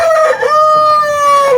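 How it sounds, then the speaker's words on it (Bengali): A rooster beside a house lets out a single loud, close crow with a long, drawn-out note that holds before tailing off. No one speaks. "ও হচ্ছে আমার বাড়ির পাশা একটা মোরগ দেখেন"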